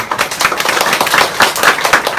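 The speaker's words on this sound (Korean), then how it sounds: "박수 부탁드려요." An audience at a Korean social-work talk breaks into loud, continuous applause, many hands clapping together close by in a dense, steady patter.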